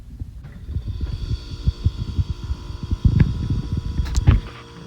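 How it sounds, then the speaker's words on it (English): A stalled KitchenAid KBRS22KKWH00 refrigerator's compressor starts up and keeps running, giving a low, close, steady hum with a throbbing rattle that grows slightly louder partway through. "if we plug it in now, you should hear the compressor kick on if everything works"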